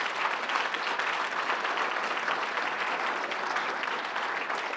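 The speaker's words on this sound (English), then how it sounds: "Let's give them a round of applause." Audience at a university commencement ceremony applauding the dinner staff, a dense, steady wash of many hands clapping that holds evenly from start to finish with no voices standing out.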